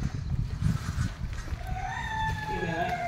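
Native village chickens and a rooster in a country poultry shed: low, busy clucking and rustling, then drawn-out, rising crow-like calls in the last second and a half, fairly close.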